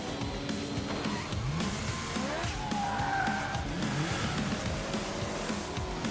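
Video game car engines rev and tires squeal in a skid, including a turbocharged Snoopy-themed car, racing sounds layered continuously at moderate level.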